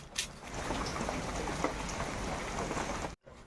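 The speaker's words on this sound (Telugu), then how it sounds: "బాగా వర్షం పడుతుందండి." Heavy rain pours down outdoors as a soft, even hiss of falling water, steady and fairly distant, ending in an abrupt cut to silence.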